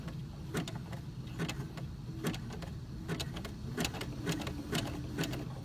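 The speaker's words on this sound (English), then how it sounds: "I'm going to make my zigzag stitch a little wider than normal." A sewing machine with an edge joining foot stitches a wide zigzag in pink thread, giving a quick steady run of needle clicks and motor whir. It sounds close and moderately quiet, with no talk.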